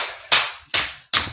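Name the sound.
applause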